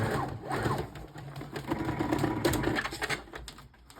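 A sewing machine stitches stretched elastic with a busy, uneven mechanical whir that rises and falls over a few seconds, running close by.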